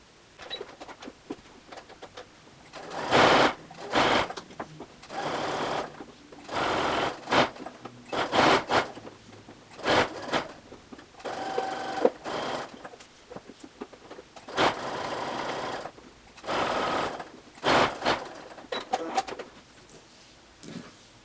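A sewing machine stitches up the second side of a V neckline facing, running in a string of short bursts separated by pauses, close and fairly loud with no talking.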